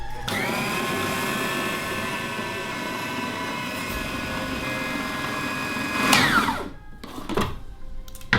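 Electric hand mixer creaming coconut sugar with butter in a bowl, a steady close whirring motor drone that runs evenly for several seconds before slowing and cutting out, followed by a few clinks.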